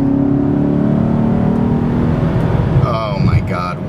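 A 2006 Maserati GranSport accelerates in sport mode, its engine note building steadily and holding up through the gears, loud and close inside the car, with someone talking over it near the end.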